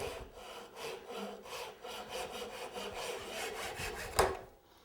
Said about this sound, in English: this is a neat little saw, and it cuts as you pull it toward you